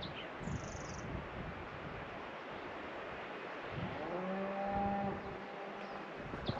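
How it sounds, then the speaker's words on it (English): Cows moo in Arizona's Salt River Canyon in the early morning, the calls distant and echoing over a steady wash of background noise, with one long, drawn-out low moo swelling near the end. "Oh, wow, I can hear cows. They're echoing through the canyon."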